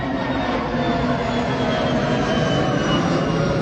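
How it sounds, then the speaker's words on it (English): An airplane passes overhead as a steady, broad roar that holds level for several seconds at a poolside setting, with no talking. "Here comes another airplane."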